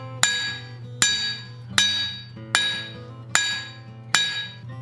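A hammer forges a metal blank, flattening the area that will become a chess king's crown: six evenly spaced, loud ringing strikes, each followed by a decaying metallic ring.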